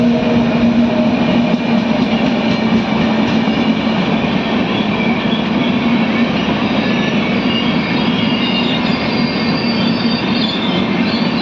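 Matsyagandha Express train running on the Konkan Railway, a steady loud rumble of wheels and carriage noise with a faint squeal, continuous and near throughout, no one talking.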